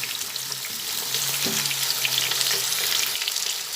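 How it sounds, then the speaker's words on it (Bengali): Potatoes frying one batch at a time in a pan give a steady, close sizzle with crackling bursts throughout, continuous and fairly loud with no talking. "এক এক করে আলুগুলো ভেজে নিচ্ছি"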